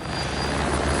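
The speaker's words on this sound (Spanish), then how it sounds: "se realizaron 37 descargas de agua desde 3 helicópteros del ejército, de la policía y de los bomberos" Firefighting helicopter flying over a wildfire in brushland, a steady loud rotor and engine roar that fills the whole moment without a break.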